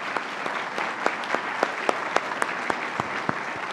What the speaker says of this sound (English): Please give these individuals a round of applause